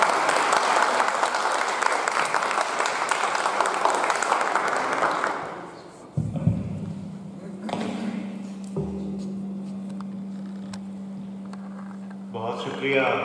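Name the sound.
audience applause at a mushaira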